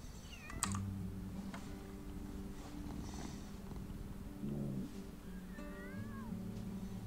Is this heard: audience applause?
no